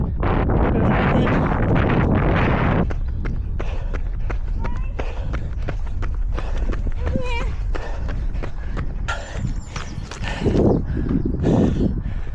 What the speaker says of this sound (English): Oh, windier than I thought.